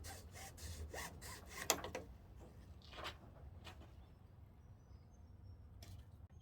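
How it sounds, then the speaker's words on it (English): A hand hacksaw cuts during work on a HomeBiogas system, giving faint, quick back-and-forth strokes for about two seconds, then a few sparse scrapes against quiet background. "Now in order to make that cut, I'm going to use a hand hacksaw."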